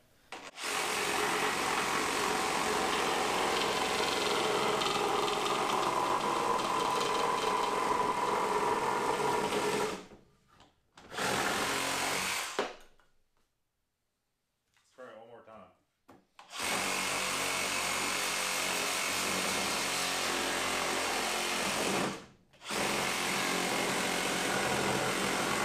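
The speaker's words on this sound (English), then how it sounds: "we're going to saw down through it" A Makita XR-J06 36V cordless reciprocating saw runs at full speed cutting, a harsh buzzing rasp in long bursts separated by short pauses and near silence, with a brief faint voice in a gap.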